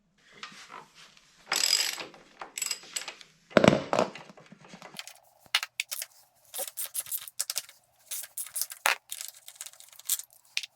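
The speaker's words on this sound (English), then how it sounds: "First, I'm going to remove the lower shock bolt and these two bolts connecting the linkage." Bolts on the shock linkage of a Yamaha YZ250F motorcycle are loosened with a ratchet, giving close, quick bursts of clicking pawl and scattered metallic clinks separated by short pauses.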